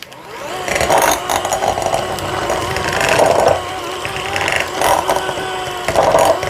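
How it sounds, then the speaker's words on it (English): An electric hand mixer whirs loudly and steadily in a bowl, beating the ingredients for puffed cheesy spinach rolls, with a mechanical rattle that swells and dips as the beaters move. "Got my hand mixer here."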